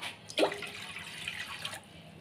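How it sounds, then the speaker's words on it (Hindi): Water is poured from a glass into an empty wok to set it up for steaming momos, a short close splash and gurgle lasting under two seconds, with no talking. "दो गिलास पानी डालेंगे"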